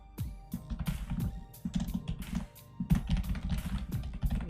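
Keys clatter on a computer keyboard during Python coding, close and steady, with uneven bursts of typing and brief pauses.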